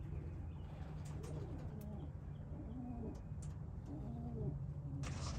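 Racing pigeons coo softly in a loft, several low repeated coos rising and falling over a steady background rumble, faint and somewhat distant with occasional small clicks.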